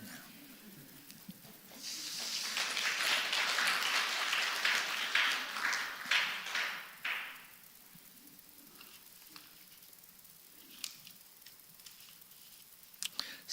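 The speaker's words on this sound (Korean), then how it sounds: "이 정도로 얘기하면 박수도 칠만한데" A church congregation bursts into applause during a Sunday service, a swell of clapping that builds, holds for several seconds and then fades, followed by a quiet room with a few faint sounds.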